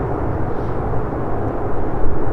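Lufthansa airliner's jet engines roaring at Manchester Airport, a steady, loud, broadband rumble with heavy low end that holds and swells slightly toward the end, with no talking over it.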